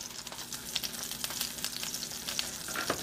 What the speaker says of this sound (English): And it's sort of like it's frying a little bit.